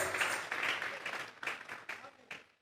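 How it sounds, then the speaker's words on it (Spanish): A church congregation claps in praise to God, a burst of applause that breaks into several separate claps and fades out, close and fairly loud, with voices mixed in. "Vamos a regalarle ofrenda de palmas al Dios de la gloria."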